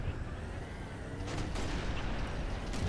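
An explosion in the Halo video game after a vehicle runs over a player, heard as a dense, sustained rumbling blast with crackling debris across the whole moment, fairly loud and without speech.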